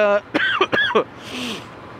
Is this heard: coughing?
yes